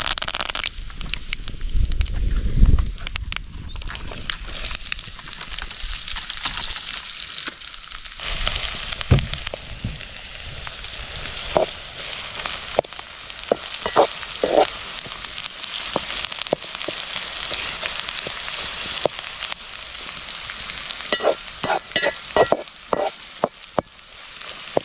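Onions and curry leaves frying with mustard seeds in a pan, sizzling and crackling continuously with bursts of popping and stirring scrapes, loud and close throughout.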